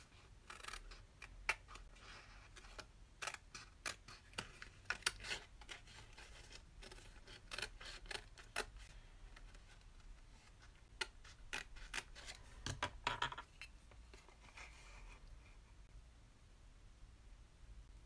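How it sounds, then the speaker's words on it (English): A half-inch circle punch cutting buttons out of paper, giving repeated sharp clicks and crunches at an irregular pace over quiet room noise, with no talking. "punch a few buttons."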